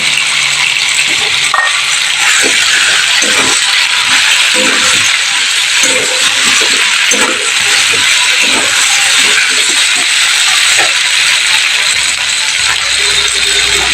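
Spices hit hot oil in a pan while cooking dhokar dalna, a loud continuous sizzle with crackling and spitting throughout.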